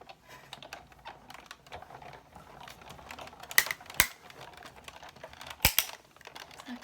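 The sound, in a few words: cutting a circle out of card for a spinner card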